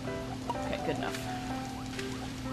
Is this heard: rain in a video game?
yes